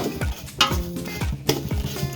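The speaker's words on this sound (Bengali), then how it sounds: "এটা কোনোভাবেই বেশি ভাজা যাবে না" A spoon scrapes and knocks around a pan as spice mix for mango pickle is stirred while frying, with repeated clanks and scrapes at an uneven rhythm over a faint background sizzle.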